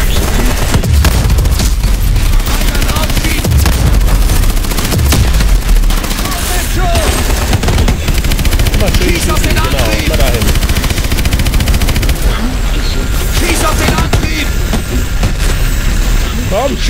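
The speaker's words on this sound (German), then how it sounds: "Schieß alles drauf, was du hast!" Dense, unbroken gunfire and explosions rage in Call of Duty: Advanced Warfare, loud and chaotic throughout, with voices talking over the din.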